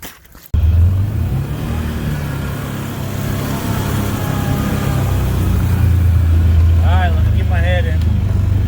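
A farm gas buggy's engine drones steadily at close range, a loud, constant low rumble with slight shifts in pitch as it drives, with a few brief squeaky sounds near the end.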